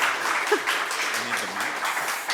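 Audience applause at a design-trends conference talk, a steady crowd clapping at moderate level throughout with a brief voice breaking through.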